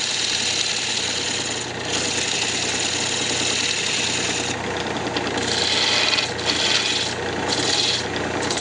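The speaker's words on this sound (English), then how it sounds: "Going to turn a tenon down here." A lathe tool turns a tenon on a wood blank for a bandsaw box, giving a steady, close rasping scrape over a faint motor hum that swells and eases in short waves.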